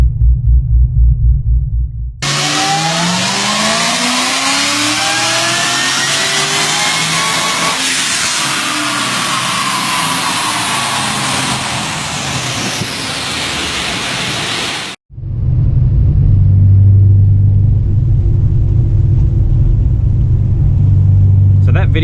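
Tuned car engine fitted with a 3-inch ceramic-coated Hurricane exhaust and 2-inch headers, revving loud and close in rising and falling sweeps, preceded and followed by a deep idle rumble.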